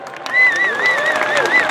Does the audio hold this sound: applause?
yes